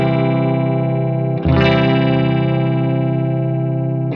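Guitar run through a vibrato pedal set to a very fast rate, sustained notes wobbling rapidly in pitch, with a new chord struck partway through, loud and close.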